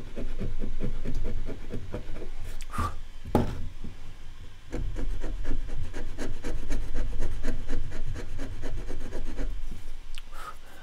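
A chisel scrapes along a wooden edge in rapid, rhythmic rasping strokes close by, broken by a couple of sharp knocks, then more steady scraping.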